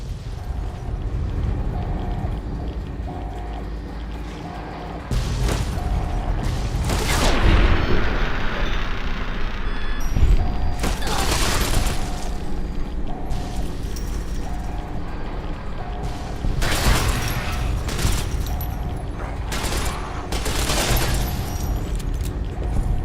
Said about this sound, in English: Lots of explosions going on here.